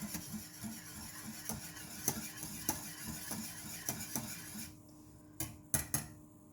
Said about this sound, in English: Okay, again, just whisk, whisk, whisk.